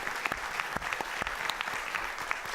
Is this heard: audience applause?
yes